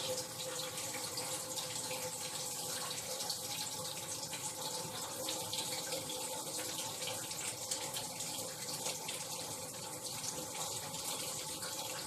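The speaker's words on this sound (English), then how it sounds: "Fill that back up with water." Tap water runs steadily into a brass tumbler, a continuous low-level gush and trickle that holds throughout with no speech.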